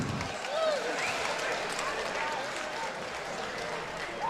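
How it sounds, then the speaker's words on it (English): Crowd applause at a bare-knuckle fighting event at the James L. Knight Center in Miami, a broad sustained wash of clapping from a distant arena audience, with voices mixed in. "of applause for both fighters"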